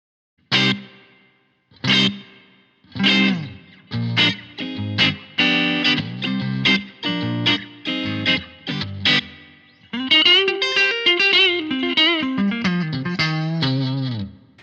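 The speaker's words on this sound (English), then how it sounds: "bring the reverb in, the spring verb, you'll hear what that does" An electric guitar through a Line 6 Helix plays a sequence of plucked notes and chords, each drenched in a splashy, echoing spring reverb, ending in a sustained shimmering strum.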